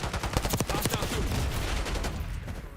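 Hostile gunfire in Black Ops 6 crackles in a rapid, continuous volley of shots at moderate loudness, with no talking.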